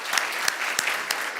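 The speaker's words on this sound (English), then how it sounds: "let's clap for them" Audience applause for competition winners at a forum event, a steady wash of clapping with a few sharper claps standing out over the 1.4 seconds.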